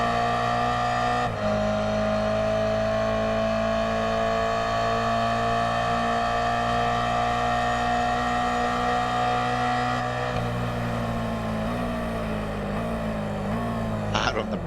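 Race cars accelerate down a circuit's front straight, their engines holding a loud, sustained, strongly tonal whine that climbs through gear changes near the end, with commentary talk over the top.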